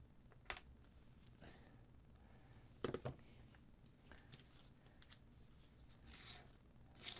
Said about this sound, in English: So we'll just cut this base.